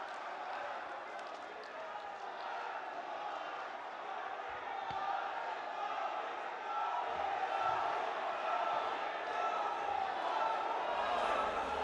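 A large outdoor audience at a Begusarai, Bihar rally welcomes Prime Minister Modi with sustained, dense applause and crowd noise, a steady loud roar lasting throughout with cheering mixed in.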